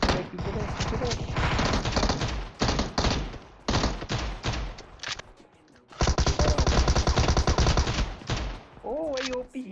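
Gunfire in PUBG Mobile during a sniper fight: repeated close bursts of rapid shots in clusters with short pauses between, loud and sharp, with brief game sounds between the volleys.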